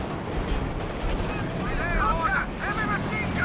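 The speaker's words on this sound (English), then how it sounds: "It's the officer artillery, the command tank artillery." Officer-called command tank artillery barrage in Company of Heroes 2, a World War II strategy game, with dense rumbling gunfire and bursts rolling continuously under battle noise, plus a few whistling shell sounds toward the end.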